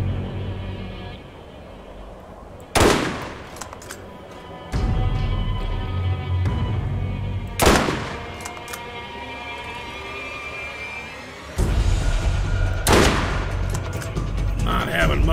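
Gunfire in the video game Borderlands, several loud bursts of shots and booms separated by stretches of droning battle ambience and whining engine noise.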